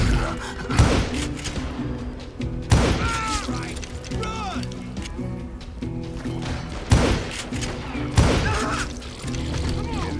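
Loud gunfire and thuds in the video game Call of Juarez: Gunslinger go off in scattered bursts over busy game noise, with a voice talking throughout.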